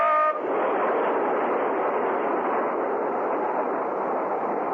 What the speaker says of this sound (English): The train screeched to a stop at the station.